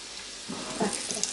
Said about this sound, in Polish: Smażymy w dużej ilości